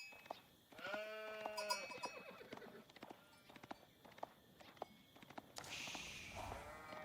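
Sheep bleat in an Age of Empires-style strategy match, mingled with clip-clop of hooves and other unit sound effects over a steady game soundscape, with several short bleats and clicks scattered across the clip.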